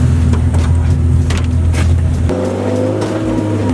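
Drift cars at a drift event with a 350Z and a V8 240SX, loud engine roar and tire noise close by, a steady blast that drops abruptly partway through and gives way to a lower idling drone, over wind.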